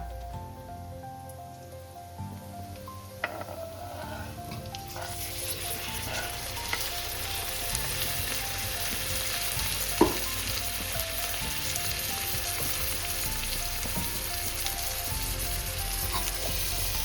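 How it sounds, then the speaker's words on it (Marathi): Finely chopped tomatoes dropped into a hot pan for a Koli-style dry clam masala, with a quiet hiss swelling into a loud, sustained sizzle with occasional clinks and no voices. "तर आता आपली टांबोटी बारीक अशी चिरून झालेली आहे तर आता आपण ती तव्यामध्ये सोडून घेऊया"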